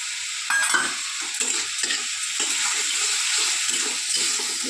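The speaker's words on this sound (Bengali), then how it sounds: "ভালো করে এটাকে কষে নেব" Fish and bitter gourd fry in a pan with ghee, turmeric, salt and lemon juice, giving a steady close sizzle broken by rhythmic scraping stirs about every half second. No one speaks.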